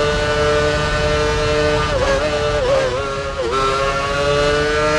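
A Formula One car engine screams at full throttle down a fast straight at about 310 km/h in the racing game F1 Championship Edition, a loud, steady high-pitched whine with brief dips and recoveries as it shifts, alone with no talk.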